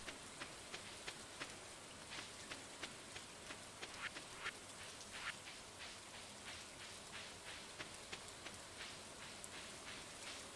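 Acid rain falling in the game Stardew Valley, a soft steady patter with scattered drip ticks, faint and distant, no talk.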